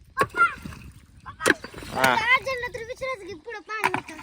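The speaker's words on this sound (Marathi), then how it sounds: "बास्की किती दगड टाकतात बास्की" Voices calling out over open air, with a couple of sharp splashes as objects drop into water.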